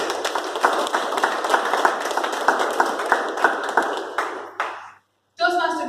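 Applause from the audience at a Toastmasters club installation ceremony: steady, dense clapping that stops abruptly, with a voice starting up right after.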